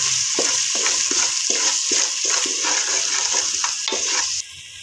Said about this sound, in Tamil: இப்போ இது நல்லா வதக்கி விட்டுக்கலாம்